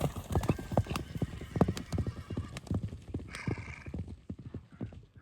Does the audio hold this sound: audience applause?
no